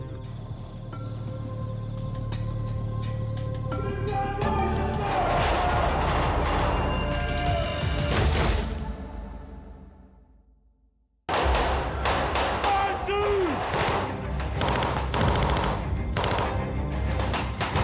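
Heavy gunfire fills a military night exercise, dense bursts of machine-gun fire and rifle shots hammering continuously, then cutting out briefly before another loud barrage resumes.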